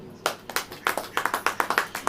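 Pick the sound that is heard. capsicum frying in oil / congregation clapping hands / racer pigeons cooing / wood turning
congregation clapping hands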